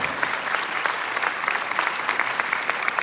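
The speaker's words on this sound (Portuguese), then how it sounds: "Uma salva de palmas para o nosso convidado." A crowd applauding steadily with dense, continuous clapping throughout, fairly loud and sustained, with no talk over it.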